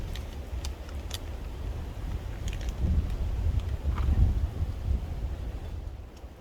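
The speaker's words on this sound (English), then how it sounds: "I hate when it's windy" Steady wind buffets the microphone outdoors on the Pacific Crest Trail, a low rumbling roar that swells midway and then eases, with a few faint clicks and no speech.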